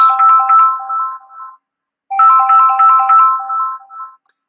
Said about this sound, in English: Not answering a phone call from London.